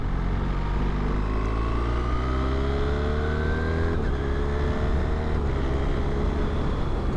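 BMW R1300GS motorcycle on a test ride pulls away hard, its engine note climbing steadily through the revs in one long, loud acceleration with a brief shift partway, close and continuous.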